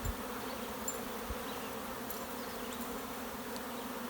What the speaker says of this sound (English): I can actually hear this swarm of bees in the bush